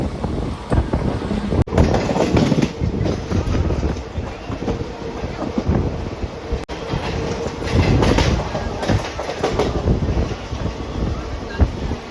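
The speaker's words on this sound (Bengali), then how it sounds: "অবশেষে আমাদের ট্রেন ছাড়লো প্রয়াগরাজ জাংশন স্টেশন থেকে" A special train running after leaving Prayagraj Junction, heard from on board as a loud continuous rumble with rhythmic clickety-clack of wheels on rail joints and wind noise over the microphone.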